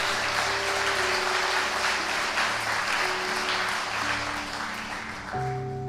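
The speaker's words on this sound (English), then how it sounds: "give him a round of applause" Continuous audience applause at a speech event, a broad steady wash of clapping over a low sustained tone, holding level throughout with no talking over it.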